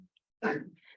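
A single sharp sneeze bursts out mid-clip, loud and close, followed by a brief airy breath, with near silence before it.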